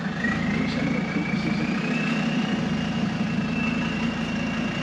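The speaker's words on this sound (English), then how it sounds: "This has got to be one of our biggest trucks ever to come in here." A large truck's engine idles with a steady, continuous low rumble and a faint whine on top, close by, with no pauses over the whole stretch.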